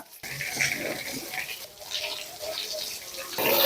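Water hose spraying a scooter during washing makes a continuous hissing splatter that surges and dips as the stream moves across the bodywork and mudguard, close by.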